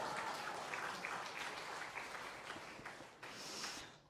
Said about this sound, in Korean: 여러분들 격려의 박수를 한번 보내주시죠